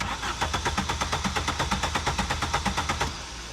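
A car engine cranks over with no fuel pump connected, giving a loud, fast, even chugging of starter pulses for about three seconds without catching, then falls to a quieter hum.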